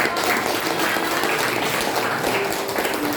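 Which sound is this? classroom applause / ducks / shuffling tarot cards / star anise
classroom applause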